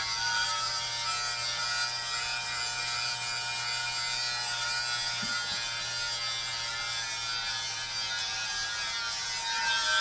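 Vacuum beard trimmer for men running steadily for the whole stretch, a constant close electric buzz with no talk over it.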